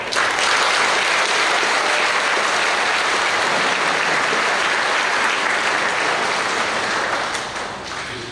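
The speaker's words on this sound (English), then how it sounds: "Let's give whoever wrote this one a round of applause." An audience at a church confirmation Mass breaks into loud, dense applause that carries steadily for about seven seconds, then fades slightly at the end.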